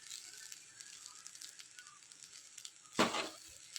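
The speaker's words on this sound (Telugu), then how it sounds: "ఇందులో తురిమి పక్కన పెట్టుకున్న ఈ కొబ్బరి తురుము మొత్తం కూడా వేసుకుని వేయించుకోవాలి" Grated coconut frying in ghee gives a soft, faint sizzle, and near the end a louder scrape marks a single stir of the pan, with no voices.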